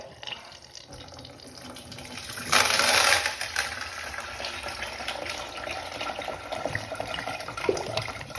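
A toilet flushing rocks, a rushing surge of water that swells loudly for a moment then settles into gurgling and trickling, with a few faint rattles and knocks.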